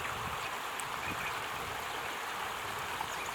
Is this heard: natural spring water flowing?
yes